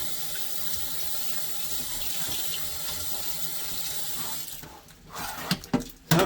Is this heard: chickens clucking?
no